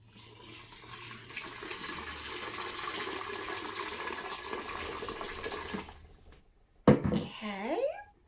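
Hot boiled filtered water poured into a bucket of sugar for homemade wine, a steady splashing pour for about six seconds, then a brief clatter and a few sloshing, gurgling sounds.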